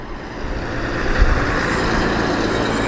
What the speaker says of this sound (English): Beautiful old Leyland. Leyland Octopus action here.